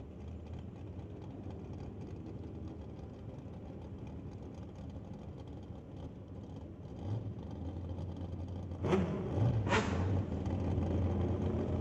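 A 1985 Kawasaki drag racing motorcycle idles at a drag strip with a steady low engine drone, then revs sharply in two short loud bursts near the end.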